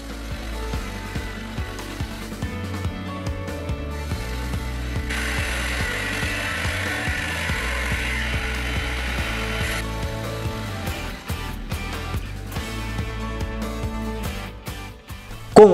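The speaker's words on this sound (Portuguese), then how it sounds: "Agora chegou a hora de cortar a caixa em toda a volta." A power tool cuts around all sides of a small wooden box made to hold a ham knife, a steady whining mechanical drone with a brighter, harsher stretch in the middle, close and loud with no talk.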